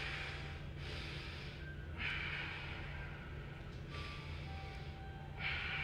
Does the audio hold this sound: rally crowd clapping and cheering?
no